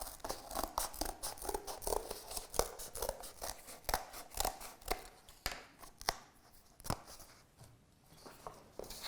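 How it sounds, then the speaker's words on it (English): Scissors snip a hill shape into the top of a sheet of paper, producing a close, quiet series of crisp cuts in an irregular rhythm with brief pauses between them. "So I'm going to cut a hill shape into the top of it."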